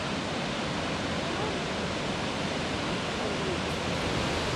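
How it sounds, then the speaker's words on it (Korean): Powerful rushing water of Barron Falls near Cairns, Queensland, viewed from a glass-floored lookout: a dense, steady roar filling the whole clip, loud and unbroken with no distinct events. "거센 물줄기는 그 어떤 폭포보다 압도적인데요"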